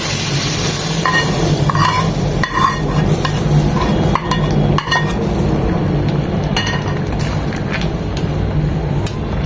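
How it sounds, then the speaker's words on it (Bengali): Fried garlic tempering hits cooked bottle gourd and lentils, giving a steady loud sizzle with scraping spoon stirs and occasional metal clinks against the pot, close by with no talk. "আমরা বাগারের জন্য যে রসুনটা ভেজে নিয়েছি এখন এটা দিয়ে দেবো লাউয়ের মধ্যে"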